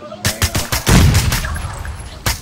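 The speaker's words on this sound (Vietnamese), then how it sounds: "Bắn liên tục luôn đó kìa" Rapid bursts of gunfire from a shooting video game, sharp repeated shots in quick succession with a dense fusillade around the middle, loud and close, with no talk over it.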